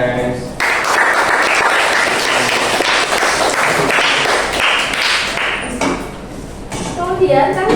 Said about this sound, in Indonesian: Oke, tepuk tangan guys.